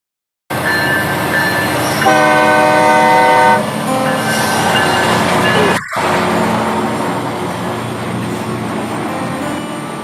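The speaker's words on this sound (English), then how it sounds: "That's a train with the brakes on." A train on rails with its brakes applied gives a steady, loud rumble. A sustained tonal squeal rises over it for a stretch near the start, and a sharp click cuts through later.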